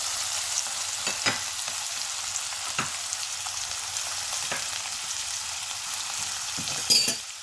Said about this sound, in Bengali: এগুলোকে এখন হালকা ফ্রাই করব।